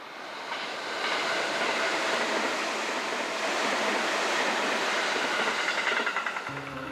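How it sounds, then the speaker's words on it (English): The Highland Train rolling past the Yatsugatake volcanic group in Japan, a steady moderate rush of rail noise that swells in and holds evenly, with faint rhythmic clatter near the end. "we pass the Yatsugatake volcanic group on the Highland Train"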